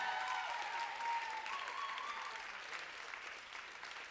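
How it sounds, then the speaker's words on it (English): An audience applauds finalists lined up on stage at a spoken word poetry event, a fairly distant, sustained wash of clapping with a few whistles and cheers, slowly fading. "Clap it up for all your finalists."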